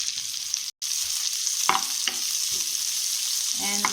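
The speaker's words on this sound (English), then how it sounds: "I'm going to add the chopped onion pieces" Chopped onion pieces sizzle steadily in a hot pan for chicken 555, a constant bright frying hiss with a few soft stirring scrapes and clicks.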